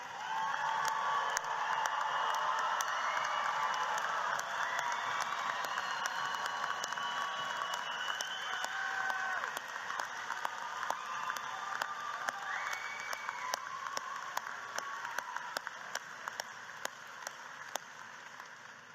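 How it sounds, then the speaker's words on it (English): A large commencement audience applauds graduates, a dense continuous wash of clapping heard from a distance with faint cheers mixed in, holding steady for the whole stretch. "Give these graduates a Lion roaring round of applause."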